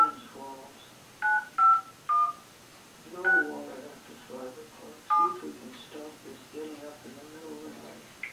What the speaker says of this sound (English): Why don't we just dial?